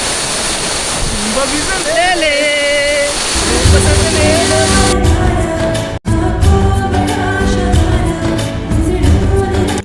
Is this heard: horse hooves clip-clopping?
no